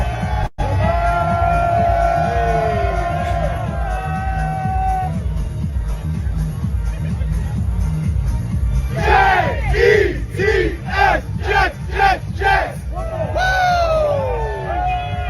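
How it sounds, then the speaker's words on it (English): A large crowd of New York Jets fans shouts the team chant, rhythmic bursts of massed voices that grow louder and more regular in the second half, with loud crowd noise and some talk throughout. "hit the Jet chant"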